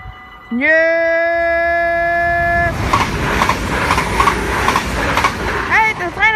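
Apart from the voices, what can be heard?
train passing at Maasbracht station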